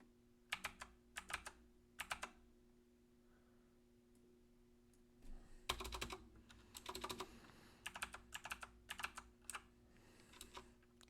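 Typing on a computer keyboard, heard as soft, close clicking in short bursts of quick keystrokes separated by brief pauses in an otherwise quiet room.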